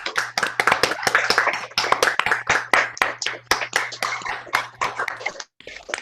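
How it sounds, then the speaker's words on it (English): Applause for performers at a school concert: a small group claps in quick, uneven strokes for about five seconds, fairly close and clear, then stops abruptly. "Can we have a round of applause for all of our wonderful performers today?"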